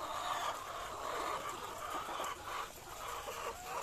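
Chickens in a small poultry house cluck softly and continuously at a moderate distance, a faint, busy flock murmur with no talking.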